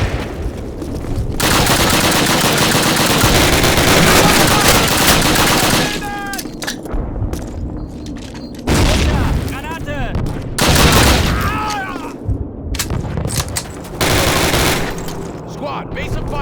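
Sustained machine gun fire from a Call of Duty battle rattles loudly in long continuous bursts with short breaks, mixed with scattered rifle shots and shouted voices nearby.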